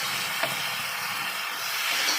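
Ground spice paste hitting hot mutton fat in a pan gives a steady, close hiss and sizzle, holding evenly for a couple of seconds with a faint clink near the start.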